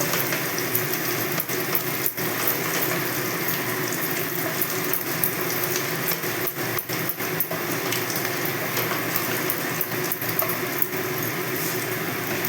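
Bay leaves, dried red chillies, cumin and whole garam masala fry in hot oil for a Bengali vegetarian aloo dum, giving a steady, dense, continuous sizzle at close range with no talking.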